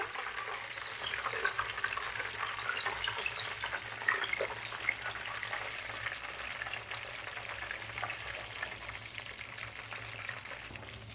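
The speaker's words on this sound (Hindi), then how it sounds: "अब हम इसमें समोसे फ्राई करेंगे।" Vegetable samosas filled with chickpeas and peas fry in hot oil over medium heat, giving a steady, dense, close sizzle and bubbling that holds without a break throughout.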